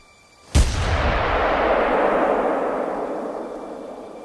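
A single hunting rifle shot cracks loudly in The Hunter: Call of the Wild, and its booming echo rolls away slowly over several seconds.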